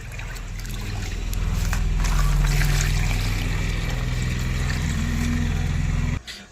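Water pours steadily into a pot for growing lotus tubers, a loud, close rush and splash that swells and then cuts off abruptly near the end.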